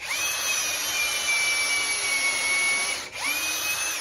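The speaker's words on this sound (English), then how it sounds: "I put the other bit in the impact. So it's gonna be really loud whenever I use the impact" A cordless impact driver whines steadily as it sinks 3-inch deck screws into wood while building a blanket ladder, one long continuous drive followed by a short pause and a second burst, loud and close with no talking.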